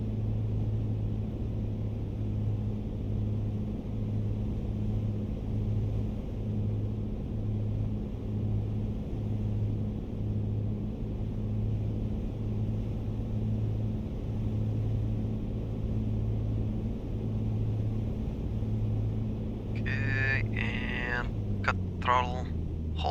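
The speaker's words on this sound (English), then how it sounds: "Greased that landing." An aircraft landing in the video game Microsoft Flight Simulator, with a steady, droning engine hum that pulses gently throughout, then a few sharp clatters and thumps near the end as it touches down.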